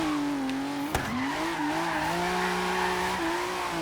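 Sports car drifting, either a 2017 Ford GT or a McLaren 650S, with a continuous loud tire squeal over a steady engine drone and a brief thump near the start.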